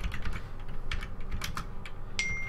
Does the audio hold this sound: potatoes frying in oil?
no